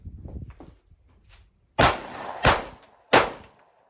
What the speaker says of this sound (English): especially after shooting 3 in a row